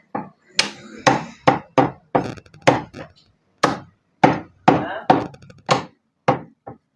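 A butcher cuts mutton into pieces at a low-price mutton stall, producing a rapid run of about a dozen sharp, loud cleaver thwacks on a block in an uneven rhythm, heard up close.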